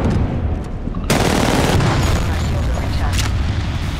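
Loud, dense gunfire in the video game Apex Legends, with an abrupt heavy burst and rapid shots rattling close up, alongside booming impacts and a voice talking over the action.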